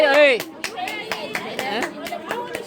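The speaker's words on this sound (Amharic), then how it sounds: "አሁን አጨብጭቡላት ለልብሱ" A small crowd claps for a mother's dress at a Mother's Day celebration, with scattered, uneven handclaps following a burst of talking voices, and chatter continuing underneath.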